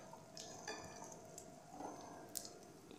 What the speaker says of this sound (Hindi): दोनों साइडों से हम इसको फ्राई करेंगे।